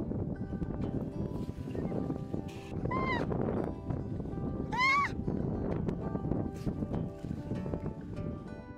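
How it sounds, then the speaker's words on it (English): Two high, rising squeals from a harp seal ring out over a noisy, rumbling background, the second louder and sharper than the first. "Here are the cute squeals of the harp seal,"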